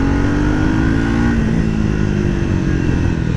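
Triumph Speed 400 motorcycle engine idling and revving, a steady deep thumping exhaust note that holds loud and close throughout with a slight rise in pitch partway through.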